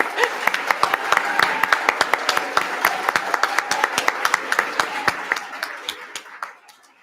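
Enthusiastic audience clapping at a university leadership awards night, sharp individual claps crowding into a lively burst that thins and fades out near the end.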